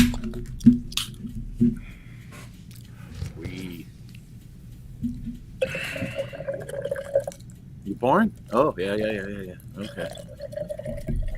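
Drinks, including seltzer water and beer, are poured and fizz at a table, soft liquid trickling and dripping in short stretches as people chat over it.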